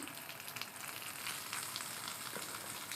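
Mixed vegetables sizzling with ginger in a pan for Bengali shukto make a soft, crackling fry with occasional stirring sounds, fairly quiet and without speech.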